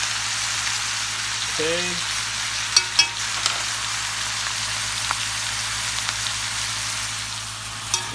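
Garlic chunks and onions sizzle and fry in a pan with steady broadband crackle throughout, a few sharp pops and utensil clicks, and a brief spoken word near the start.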